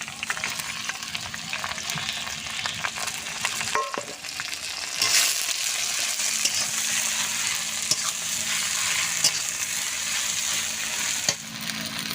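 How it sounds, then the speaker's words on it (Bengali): Taro leaves drop into hot oil with bay leaves, a loud, continuous crackling sizzle that swells briefly as the greens hit the pan and then settles into steady frying with faint stirring scrapes. "তেজপাতা ফোর কচুর শাক দেবে দিয়ে দেবো তেলে"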